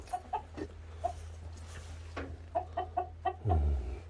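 Chickens kept at a small rural cottage by the railway cluck in scattered short bursts close by, a few quick clucks at a time with gaps between, over a low background hum.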